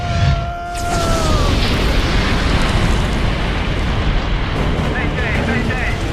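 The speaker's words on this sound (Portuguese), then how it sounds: "Ocorreu uma explosão a bordo." A loud explosion erupts aboard a boat in a game scene, its deep boom rolling into a sustained roar that fills the whole clip, with faint tonal sounds and brief voices mixed in.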